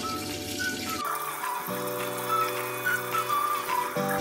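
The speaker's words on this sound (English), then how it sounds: "And then I get some water." Water running from a tap, a steady hissing stream that starts and stops with a few shifts in flow, close and fairly loud.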